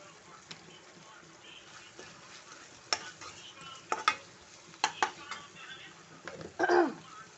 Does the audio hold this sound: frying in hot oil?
yes